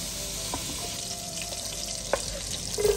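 Tiger prawns frying in a pan, a steady close sizzle with occasional stirring clicks and utensil taps, a little louder toward the end.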